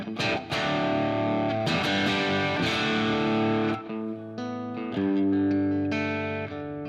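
Crunchy, lightly distorted electric guitar chords ring out one after another, each left to sustain with a spacious medium plate reverb tail.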